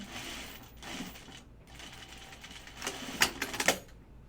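A sewing machine stitches a dress in short irregular bursts of rapid mechanical clatter, quiet at first and then louder in a cluster of quick runs toward the end, separated by brief pauses.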